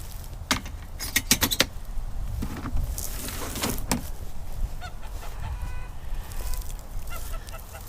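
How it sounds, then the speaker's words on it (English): A silkie rooster clucks and gives short honking calls in bursts, fairly close, over a steady outdoor background with scattered sharp knocks. "He's a silkie rooster, and he'll be joining our flock in the next couple of weeks."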